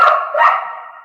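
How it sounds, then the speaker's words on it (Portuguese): A small dog gives two quick, sharp barks close by. The second trails off into a short whine, and nothing else is heard in the background. "o cachorrinho aqui"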